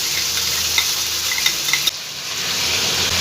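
Ginger, cumin and green chili paste goes into a pan of frying vegetables, giving a steady loud sizzle close up with a few light clinks of the stirring spoon and a brief dip as the paste lands.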